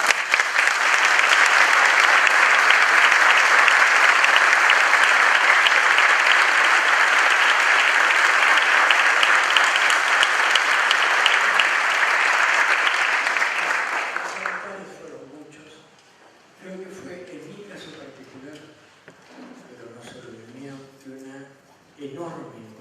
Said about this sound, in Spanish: Y les pido un aplauso.